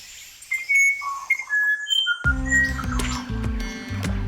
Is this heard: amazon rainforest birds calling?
yes